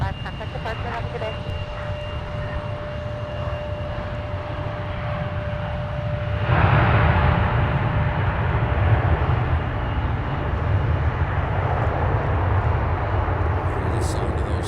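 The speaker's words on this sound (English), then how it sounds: "The sound of those thrusters reversing grabs your attention." Jet airliner engines roaring up into reverse thrust on landing at Minneapolis–St. Paul airport, a steady broadband rumble that swells abruptly louder partway through and holds, with faint tower radio chatter underneath.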